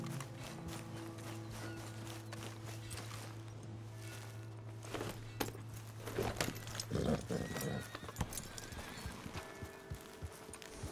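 A horse in Red Dead Redemption 2 clip-clops along with a soft neigh, its hooves knocking unevenly over a low steady hum, growing busier and louder in the second half.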